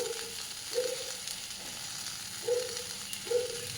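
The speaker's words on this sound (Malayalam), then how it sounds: "ഇഞ്ചിയും പച്ചമുളകും ഒക്കെ. എല്ലാം ഒന്ന് വഴലണം" Ginger and green chillies sauté in a pan with a soft continuous sizzle, broken by several brief stirring scrapes.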